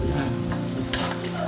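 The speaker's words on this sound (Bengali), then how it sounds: "মিষ্টি কুমড়ো ভাজা ফ্রাই করা হচ্ছে।" Sweet pumpkin fries in a pan with a steady, close sizzle and a faint hum behind it, and there is no talking over it.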